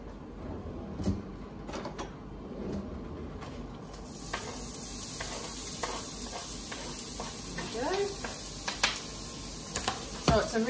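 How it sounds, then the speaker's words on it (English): Onion fries in olive oil in a pan over medium heat, a steady soft sizzle with occasional stirring scrapes and clicks from a utensil, close and moderately quiet throughout. "and I'll just fry up the onion."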